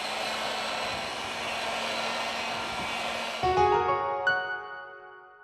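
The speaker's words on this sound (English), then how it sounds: "We apply heat to the device to remove the battery cover." A heat gun blows steadily and loudly onto the battery cover of a Samsung A71 phone, a constant close roar that then winds down with a falling tone as it shuts off.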